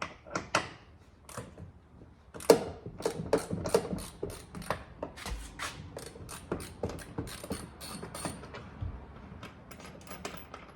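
Ratchet working the door bolts on a Ford Bronco, a long run of rapid metallic clicks and clacks, fairly close and quiet, with a few heavier knocks in between.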